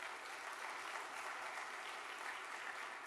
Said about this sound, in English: For them, you give them a round of applause as well.